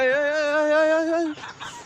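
A single drawn-out, tonal chicken call rings out close by, followed by a short scratchy rustle.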